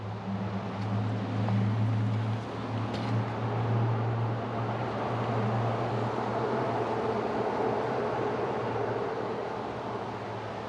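An 18-24HD gas-powered log splitter drones steadily with a low engine hum and rumble at close range, carrying on without pause and with no talking over it.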